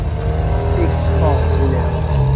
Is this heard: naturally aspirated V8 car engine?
yes